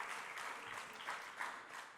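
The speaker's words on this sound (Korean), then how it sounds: "우리 미디어 팀을 위해서도 박수 격려해 주시고요." Church congregation applauding during a young adults' worship service, a steady wash of many hands clapping at moderate level for about two seconds with no talking.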